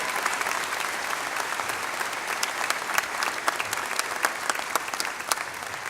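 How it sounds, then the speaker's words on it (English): Sustained clapping from a crowd at a rainy spring university commencement, honoring the police chief and his team; an even, moderately distant wash of claps with a few crisper hands closer by. "Can we give Clarence and his team a round of applause?"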